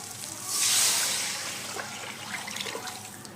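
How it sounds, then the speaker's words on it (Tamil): Rasam water is poured into a pan with hot oil and spices, giving a sudden, close splash and sizzle that fades into a lighter trickle and bubbling. "நம்ம இப்போ வந்து ரசம் தண்ணி எடுத்து ஊற்றிடலாம்."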